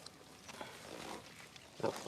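Large Black pigs, a rare breed, grunt on a farm. Faint low grunts and snuffles come through under background noise, ending in a louder, closer grunt.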